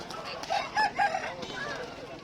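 A rooster crows nearby in a few short, bright bursts at a village poultry market in Hindiganal, with country chickens clucking around it and faint background murmur.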